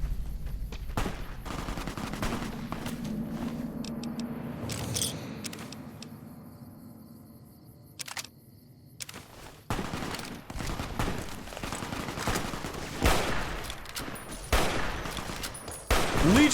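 Rapid automatic gunfire and scattered shots in the video game Fallout: New Vegas, loud bursts at the start, a quieter lull in the middle, then renewed heavy firing toward the end.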